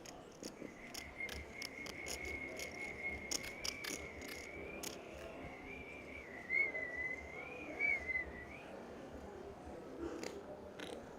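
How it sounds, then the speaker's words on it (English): Someone whistling faintly in the background during a Red Dragon Championship pool event in Jeju, a single wavering sustained tone drifting in pitch over low room noise with occasional soft clicks. "Somebody's doing some whistling."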